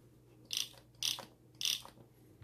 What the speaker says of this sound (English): So I'll show you kind of at half volume on the ringer.